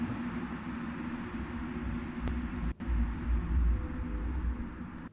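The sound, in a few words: recording of subway noise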